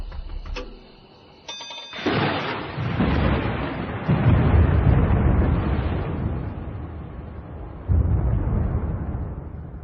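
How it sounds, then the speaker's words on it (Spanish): Deep rolling thunder rumbles on and on, swelling in loud waves after a brief quieter moment, with a steady hiss like rain underneath. "Tronando, cayendo relámpagos"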